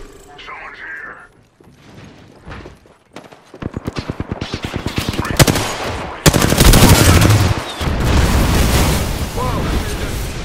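Bursts of automatic gunfire and heavy shots in a battle royale video game, starting sparse then building into loud, sustained rapid fire with booming hits, while a voice talks briefly early on.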